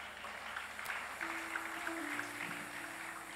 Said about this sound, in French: Est-ce qu'on peut acclamer très fort pour la parole du Seigneur?